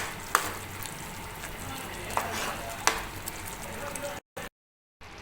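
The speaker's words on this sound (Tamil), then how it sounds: "குழம்பு நல்லா கொதித்து எண்ணெய் பிரிஞ்சு வந்திருக்கு" Sundakkai puli kuzhambu, a tangy tamarind gravy with fresh green turkey berries, bubbling in a pot with a steady close sizzle and a few sharp clinks, ending in abrupt silence.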